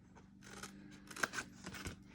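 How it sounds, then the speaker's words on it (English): Scissors snip through the score lines of a paper gift box, giving several quiet, crisp cuts in an uneven rhythm. "come up and snip the remaining 3 score lines"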